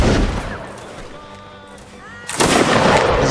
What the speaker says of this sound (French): on va tirer de l'artillerie.